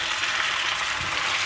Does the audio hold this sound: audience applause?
no